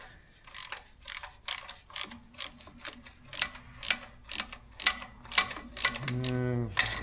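A ratchet wrench clicks in quick repeated bursts while slotted bolts are backed out of a radiator and oil cooler housing, each burst a sharp metallic ratcheting, with a faint voice in the background.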